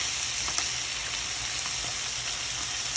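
Roughly a teaspoon of butter sizzling and frying in a hot pan, a steady close hiss with small crackles and pops throughout, no voices.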